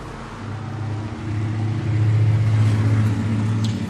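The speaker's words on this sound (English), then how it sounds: "if you can hear the traffic outside, by the way" Road traffic heard through an open window on a warm day: a steady, moderately close engine rumble that swells as a vehicle passes, with no voices.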